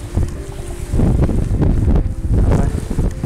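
Loud, gusty wind buffeting the microphone on the Oder river shore, a rough rumbling roar that surges and eases without letup.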